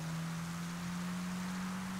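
Rain in the video game Grand Theft Auto V falls as a steady, even hiss with a low constant hum underneath, faint and unbroken throughout, with no talking.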